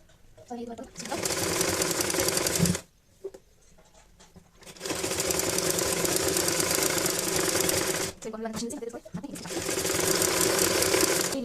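A sewing machine stitches a baby nappy in three steady runs of fast mechanical clatter, each separated by short pauses, with a person talking in between.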